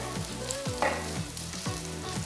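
Food sizzles steadily in a hot frying pan, with repeated stirring scrapes every half second or so over the constant crackle, close and fairly loud.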